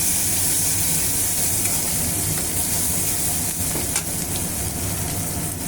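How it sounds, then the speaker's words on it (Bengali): Onions frying in a pan for a green banana and shrimp curry, a steady loud sizzle and hiss running throughout with a faint clink near the middle, no voices. "এবার পেঁয়াজটা ভেজে নেব লাল লাল করে"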